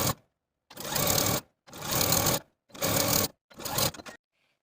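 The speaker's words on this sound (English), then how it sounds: "Now I'm going to take it to my sewing machine and sew close to these serging stitches" A sewing machine runs in four loud, steady bursts separated by short pauses while stitching close to serged seams around the hems of both legs of a jumpsuit.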